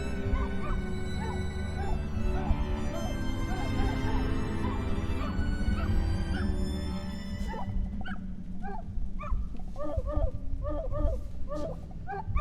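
A cartoonish dog in the video game Wandersong barks, yips and whimpers in quick repeated bursts over game music, with someone talking throughout.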